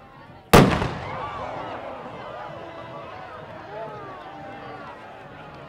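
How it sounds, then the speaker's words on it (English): An Army ROTC cannon fires a single loud, sharp blast at the Hobo Day Parade in Brookings, South Dakota, followed by a long rumbling echo over outdoor crowd ambience. "Up next, we have the Army ROTC Cannon"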